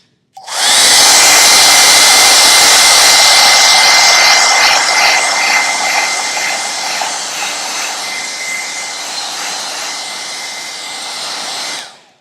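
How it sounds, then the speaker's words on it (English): A loud, steady hair dryer blowing continuously at close range while heating Worbla thermoplastic, a constant airy roar that starts abruptly and cuts off at the end. "keep your blow dryer moving because it's going to get hot"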